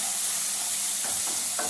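Green chillies fry gently over a low flame in a pan while being stirred, with a soft steady sizzle and a few short scraping stirs near the end.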